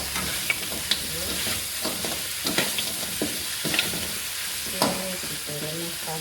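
Onions go into a pan of simmering sweet sour pork ribs, a close, busy sizzle and bubbling with scattered clinks and stirring scrapes, no voices over it.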